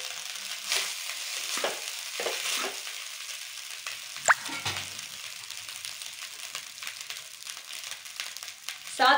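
Cooked rice is stirred into golden fried garlic in a pan, a soft sizzle under scraping and stirring strokes, with a sharp clink partway through.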